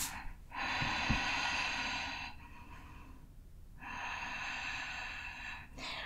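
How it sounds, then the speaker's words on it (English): Deep, audible breaths during a gentle yoga hamstring stretch: two long airy exhalations close to the mic, each lasting a couple of seconds, separated by a short quiet inhale, with no talking. "3 more deep breaths"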